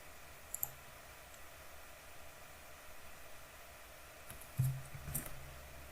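Computer mouse clicks in a quiet room: a couple of faint, sharp clicks near the start, then a slightly louder pair of clicks toward the end, over a low steady background hiss.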